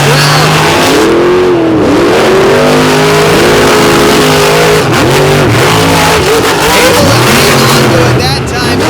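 Monster truck engines at a night race at Lake Erie roar loudly with repeated revving swells and pitch sweeps as the trucks are driven hard, under an announcer's commentary and crowd noise.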